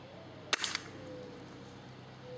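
A single sharp pop from a KWC CO2 airsoft M&P 40 pistol fired through a chronograph, followed by a couple of quick small clicks, in an otherwise quiet room with a faint background hum.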